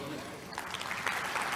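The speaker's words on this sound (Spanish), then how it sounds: "recibamos a Thomas Lynch, un aplauso" An audience at a technical talk on private MAC addresses for IXPs applauds to welcome the speaker Thomas Lynch, soft clapping that builds after a moment of chatter and stays fairly faint.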